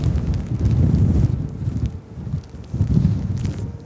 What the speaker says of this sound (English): The wind and the snow.